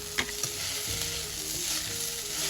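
Green chillies sizzle steadily in hot oil left from frying fish, added with ginger paste and radhuni seeds as a tempering for an ash gourd and prawn curry; close, continuous crackling with a few sharp pops near the start and no voices.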